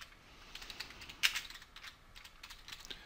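Soft, quick keystrokes on a computer keyboard, close and quiet, come in a short uneven burst with one slightly sharper tap.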